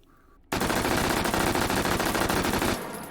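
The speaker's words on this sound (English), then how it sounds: "Let's get serious and fire it properly with the stock out and the foregrip." H&K MP5 submachine gun in the H3VR virtual reality game fires one sustained full-auto burst of rapid, loud, evenly spaced shots with the stock extended and foregrip attached, ending abruptly into a brief echoing tail.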